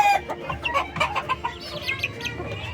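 Chickens cluck repeatedly in short, choppy bursts, fairly close and moderately loud, with overlapping calls and a low background hum.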